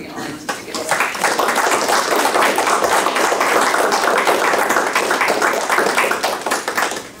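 Sustained applause from an audience in a city council chamber, dense steady clapping that holds for several seconds at fairly close range before tapering off.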